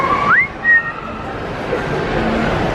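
A person whistles a short rising tune in a busy food court, a few clear notes over a background murmur of crowd chatter.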